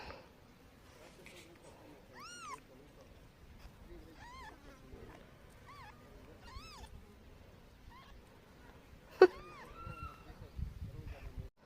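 Newborn kitten, just born with blood still on its umbilical cord, giving thin rising meows again and again over several seconds, close by, with quiet talk underneath.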